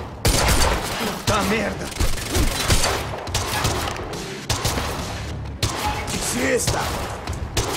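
Sustained gunfire rattles through a Quantum Break firefight on Xbox One, dense bursts and thuds filling the whole stretch while voices shout over the shooting.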